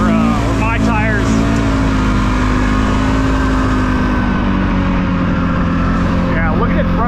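A Polaris off-road vehicle revs loudly and steadily close by, its engine droning throughout while tires kick up dirt, with a person talking over the noise.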